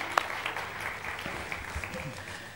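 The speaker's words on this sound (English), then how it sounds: "And yes, a round of applause indeed." Debate audience at a science event claps in a moderate round of applause, many hands patting steadily with a sharp clap near the start and a faint voice underneath.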